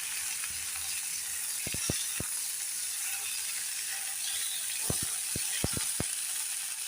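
Chopped onions fry in a pan for a chutney, giving a soft, steady sizzle with a few sharp clicks of a utensil scraping the pan; no voices.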